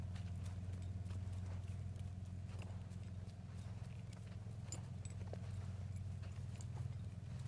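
Horse hooves clip-clopping steadily through a riding lesson, a faint, even rhythm under a constant low background rumble.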